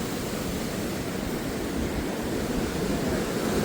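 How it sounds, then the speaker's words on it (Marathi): Constant rushing roar of rough sea waves and wind, a dense unbroken wash of noise with no voices. "समुद्राची परिस्थिती पण जरा जास्तच खवलेली आहे"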